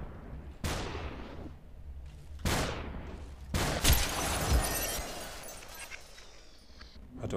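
Enemy gunfire in SUPERHOT: several sharp, loud shots spaced a second or so apart, then a denser burst with a long ringing decay, no voices.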